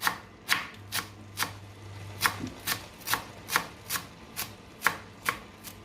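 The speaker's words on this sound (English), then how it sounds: "Be chopping it like that as well." Steady knife chops through cilantro on a cutting board, about a dozen crisp evenly spaced strikes, close up with a faint low hum beneath.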